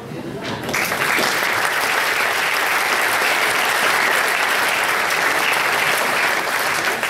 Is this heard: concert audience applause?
yes